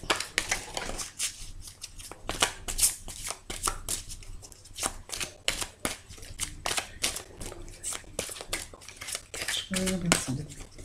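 Tarot cards being shuffled and handled during a reading, a steady run of soft papery flicks and slaps close by, with someone speaking intermittently over them.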